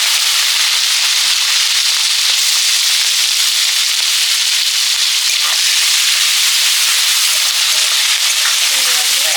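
Shrimp fry in hot oil with five-spice and turmeric, a loud, constant crackling sizzle that fills the whole stretch without pause, close to the pan.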